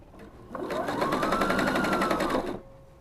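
Close and loud, a sewing machine runs in one continuous two-second burst, stitching a 5/8-inch seam on a fabric scarf wrap, with quiet before and after.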